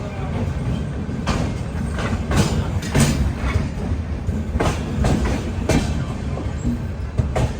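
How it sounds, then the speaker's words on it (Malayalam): The Chhattisgarh Express pulls out of Raipur railway station, heard from on board as a loud, steady rumble with rhythmic clicking of wheels over rail joints and a few sharper clanks. "8:52 ഇവിടെ റായ്പൂർ റെയിൽവേ സ്റ്റേഷനിൽ നിന്ന് നമ്മുടെ ട്രെയിൻ എടുത്തിരിക്കുകയാണ്."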